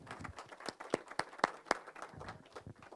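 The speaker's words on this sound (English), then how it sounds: "Let's please clap for him." Scattered audience clapping at a community networks summit in Kenya, a handful of distinct sharp claps in an uneven rhythm, moderately close and thin rather than a full ovation.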